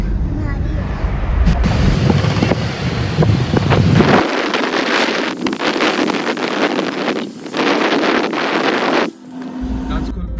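Strong sea wind in Mumbai buffets the microphone over a rumbling boat engine and sea noise, with a brief dip near the end.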